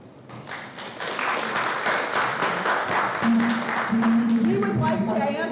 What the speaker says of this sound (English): we would ask that you please do not applaud after each speaker